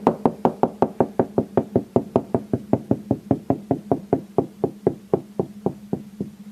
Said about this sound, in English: You can kind of knock on the wall and hear that as it goes deeper like that.